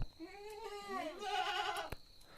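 Several goats bleating close by, overlapping wavering calls, with a steady high whine in the background.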